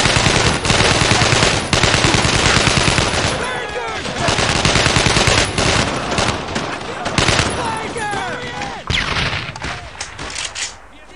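Sustained automatic gunfire and rapid shots in the Brothers in Arms video game, loud and dense for the whole stretch, with soldiers shouting over the battle.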